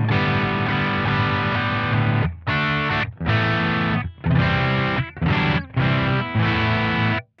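With the tone turned darker, an electric guitar plays through a J. Rockett El Hombre distortion pedal, delivering a loud, driven sustained chord followed by a series of chopped, rhythmic chord stabs with short gaps between them.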